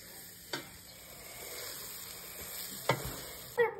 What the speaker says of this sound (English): And now we just mix the marshmallows until they get melted.